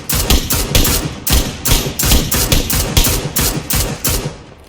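Gunfire in PUBG Lite on the Miramar map rattles out in rapid, loud bursts of shots, near and continuous with brief gaps between volleys.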